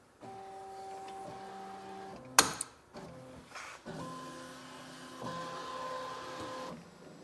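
A Qidi Plus 4 3D printer runs steady tonal motor hums and whines, broken by a sudden sharp clack from its filament cutter partway through and followed by further mechanical whirring, close but moderate in level.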